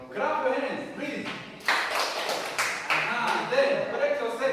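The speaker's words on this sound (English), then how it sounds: "Clap your hands, please." Classroom students at the University of Rwanda clapping their hands in bursts of quick, uneven claps, mixed with talking and a teacher's voice between rounds.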